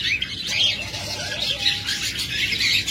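A running Japanese master pair of double-flower budgerigars chatters in a continuous stream of bright, overlapping chirps and warbles, steady and close.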